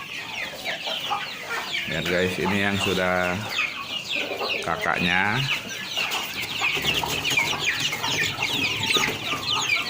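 Day-old chicks from a hatching machine on a farm cluck and peep in a continuous busy chorus, with a person talking briefly over them.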